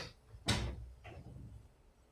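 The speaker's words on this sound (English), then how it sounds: "Let's see if I can close this door." A door being closed from outside a house, one loud broadband thud followed by a softer second knock about half a second later, with faint background noise.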